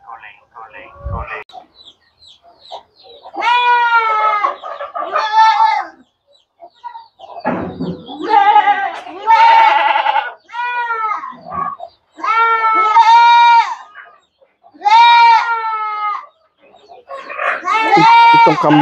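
A noisy goat bleats loudly and repeatedly at close range, with long, wavering calls coming in a series separated by short pauses.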